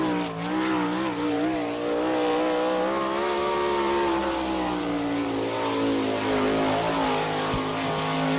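A dirt-track race car, number 22, roars through a qualifying lap at Attica, Ohio, in an All Star Circuit of Champions event, its engine a loud, steady high-revving drone with rising and falling pitch throughout.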